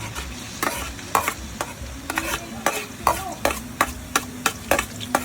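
Onion and garlic frying in a pan for palapa, a spicy condiment, with steady sizzling and a run of sharp stirring scrapes and clacks repeating every half second or so, close and fairly loud, with no talking.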